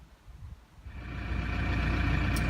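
A car engine turns over and settles into a steady low idle, rising from quieter handling noise into a continuous rumble close by.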